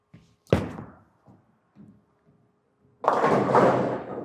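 A bowling ball thuds onto the lane, then a loud crash of pins scatters about two and a half seconds later at a bowling alley, both heard clearly without talk.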